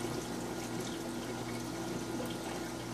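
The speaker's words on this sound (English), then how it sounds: "You can actually hear the pump until the siphon starts. And then the running water is mostly what you hear." An aquarium pump hums steadily beneath running water from a siphon, a constant low drone under an even wash of flowing water.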